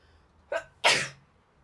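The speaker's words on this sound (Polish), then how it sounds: "I ja czuję, że właśnie kichać mi się chce." A single human sneeze, close and clear: a short intake followed by a sharp, loud burst that fades quickly in a quiet room.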